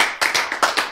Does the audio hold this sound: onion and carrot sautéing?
no